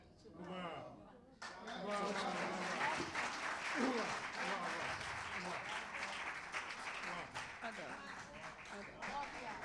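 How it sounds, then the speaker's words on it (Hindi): An audience at a devotional poetry gathering breaks into applause, a dense sustained patter of clapping mixed with voices and exclamations of approval, steady throughout. "आपकी तालियां बता रही हैं कि आपको उनका कलाम बहुत ज़्यादा पसंद आया है।"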